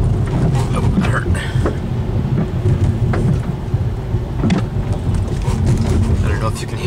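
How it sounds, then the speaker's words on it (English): Sticks and storm debris thump against the underside of a car driving through littered side roads during Hurricane Sandy, irregular close knocks over a steady roar of wind, rain and engine, with a voice talking throughout. "I don't know if you can hear all those sticks hitting the bottom of my car as I try to drive around them."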